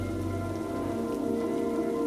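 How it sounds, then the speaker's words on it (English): Heavy rain pours down in a steady, dense wash that stays constant and loud throughout, with no voices over it. "All of a sudden, the rain began to pour."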